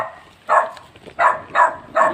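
A guard dog at a hilltop cemetery, protecting its owner, lets out four sharp, close barks spaced irregularly, each loud and distinct against a quiet background.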